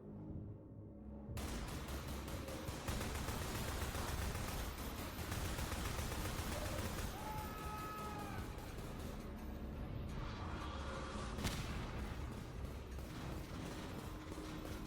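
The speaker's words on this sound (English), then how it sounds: "This SMG shoots kind of nice." Rapid bursts of submachine gun fire from the SMG in Half-Life 2 crackle loudly and continuously through a dense, busy game soundscape, with mechanical clicks and brief tonal whines layered over the shooting.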